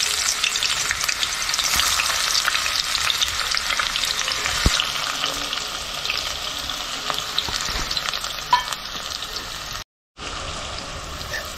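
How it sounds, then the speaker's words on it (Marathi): Chopped onion sizzles and crackles steadily in hot oil as the tempering for a chicken gravy starts, a loud, continuous frying hiss with occasional pops and a brief drop-out near the end. "आता आपण कांदा फोडणीला घालूया"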